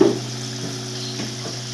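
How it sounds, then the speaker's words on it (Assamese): Fried fish is added to a pan of simmering tomato curry, Assamese style, giving a steady close sizzle and bubbling with a faint soft stir partway through. "গতিকে ইয়াত এতিয়া মই ফ্ৰাই মাছখিনি দি দিম।"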